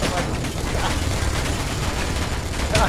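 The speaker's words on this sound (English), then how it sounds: "bullets flying through space" Dense, continuous gunfire from the space-combat sandbox game Space Engineers, a steady rattling barrage at full loudness for the whole stretch with no pauses.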